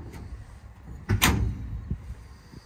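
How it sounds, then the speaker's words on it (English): A compartment door on a wooden cabinet being opened, giving one short, fairly close knock-and-swing sound with a brief creak, over a quiet room. "Open compartment here."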